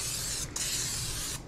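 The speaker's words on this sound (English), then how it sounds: "Go ahead and spray our pie pan" Pam cooking spray hisses onto a pie pan for quiche in two close, steady bursts with a short break between them.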